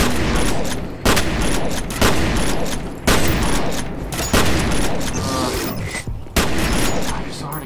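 Rapid bursts of gunfire from the shooter game F.E.A.R., loud and dense, with repeated volleys and sharp onsets roughly every second over a steady roar of combat noise.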